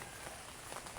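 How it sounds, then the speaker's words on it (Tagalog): Steady wash of rain falling on a surface during a storm, even and unbroken, with no voices. "Tignan mo guys, kahit umuulan, bumabagyo, nandito pa rin tayo."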